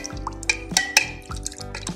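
Table salt stirred into distilled water in a glass container, giving a few light clinks and drips at a close distance, with a soft liquid stir between the taps.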